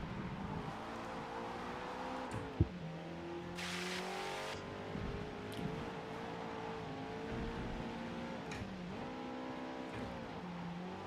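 A Subaru BRZ races around a track in Forza Motorsport, its engine note rising and falling through gear changes at a fairly low level, with a sharp click partway through and a brief burst of noise.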